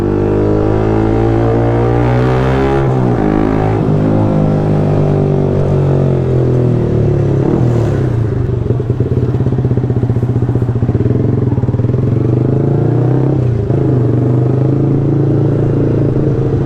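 A loud motorcycle exhaust idles with a rough, crackling rumble, revving up sharply a few times, close by and continuous throughout.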